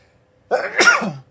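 A single short sneeze, close and fairly loud, with a sharp burst and a trailing exhale, alone with no talk around it.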